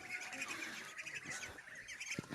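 Pigeons on a rooftop coop, heard as faint, scattered bird calls and squawks over steady outdoor hiss, with no talking.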